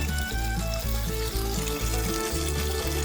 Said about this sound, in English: Now I'm under the RV, draining the freshwater tank